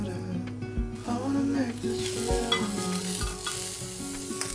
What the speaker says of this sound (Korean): 중불에 가지를 가지런히 올려줍니다.